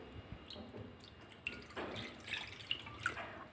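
Milk is poured from a cup into a heavy-bottomed pan, faint trickling and splashing with a few small drips and clinks, quiet and close.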